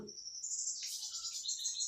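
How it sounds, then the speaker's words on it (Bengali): Faint, high-pitched bird calls and thin trills, including a koel, drift through a quiet village background, soft and somewhat distant. "গ্রামে এত সুন্দর পাখির ডাক"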